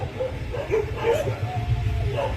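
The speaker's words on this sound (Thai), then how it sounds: "หมาเห่ากันใหญ่เลย มันคงจะไม่เคยเห็น" Dogs at the Nong Tom railway station bark at a passing express train, several yips and barks repeating at mid distance over a steady low rumble.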